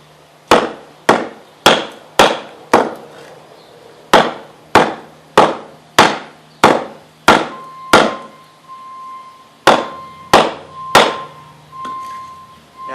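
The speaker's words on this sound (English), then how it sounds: "Now I'm just going to take a sliver off of this because we have other kukris to test." Kukri blade striking a piece of dry, weathered firewood, taking off slivers: a steady series of about seventeen sharp, loud chopping thunks with short ringing tails, evenly spaced and close, with no talk.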